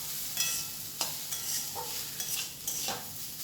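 Papaya, carrot and coconut get stirred as they fry in a pan, with a spatula scraping and tapping several times over a steady soft sizzle.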